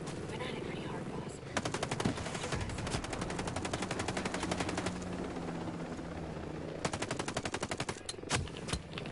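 Rapid bursts of automatic gunfire from the video game Ghost Recon Breakpoint, loud and sustained in long strings of shots with short gaps, over a low rumbling background.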